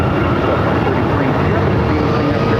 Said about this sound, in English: American Airlines flight came in from Newark on this A321 Neo.